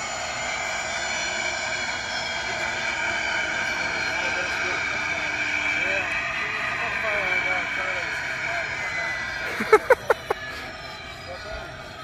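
Light aircraft engines drone steadily at a small-plane fly-in gathering, with people talking nearby and a few sharp clicks near the end.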